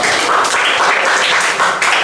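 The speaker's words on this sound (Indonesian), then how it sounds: "Oke, tepuk tangan dulu." A classroom group applauds after a student presentation, a dense, loud, steady wash of many hands clapping together from start to finish with no talk.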